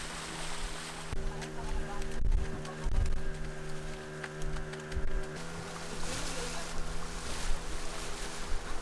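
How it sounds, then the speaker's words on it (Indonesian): A boat cruising at moderate speed on the sea off Ciletuh, its steady motor drone running continuously beneath wind and water noise, with voices talking faintly in the background. "kapal pun melaju dengan kecepatan yang nggak terlalu cepat sih, dan nggak terlalu lambat juga"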